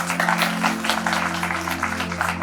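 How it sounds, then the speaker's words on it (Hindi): Audience at a Hindi stage event clapping steadily to welcome a guest, a continuous dense patter of hands over a low steady hum, with no voices. "जोरदार तालियों से स्वागत करें"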